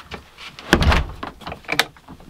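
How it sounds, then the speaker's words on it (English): An indoor door swings shut with a close thud, followed by softer rattles and handling knocks in a quiet room. "Sayla, if you could close the door and we'll hit the lights there"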